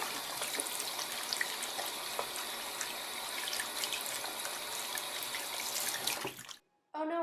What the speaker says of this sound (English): Oh no, I spilled some water.